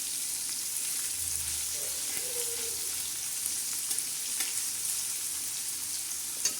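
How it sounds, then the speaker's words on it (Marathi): Onion and tomato frying and being stirred in a pan for a Marathi tawa-fry cluster bean dish, a steady hiss of sizzling oil with soft scraping of the spoon, close and unbroken. "कांदा आणि टमाटा असं चांगला असा हलवून घ्यायचा."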